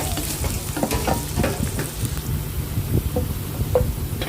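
Cumin seeds and finely chopped onion sizzle in a little oil while being stirred, a steady crackling fry with scraping strokes from the spoon and no talking.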